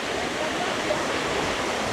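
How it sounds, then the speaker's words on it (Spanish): Lake water pours straight into a river, making a steady, dense rushing roar of falling water with no breaks or voices. "el agua del lago cae acá directamente al río"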